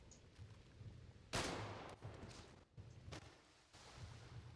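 Gunfire in a video game, with one sharp loud shot and several fainter pops spread over a quiet, low-level background, heard alone without talk.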